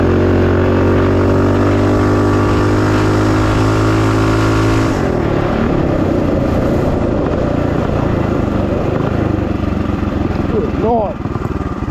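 Predator Ghost 227cc stroker minibike engine with a worn belt, revving hard on a driveway pull; a loud close-up drone that changes character midway and rises in pitch as it accelerates, with a voice briefly over it.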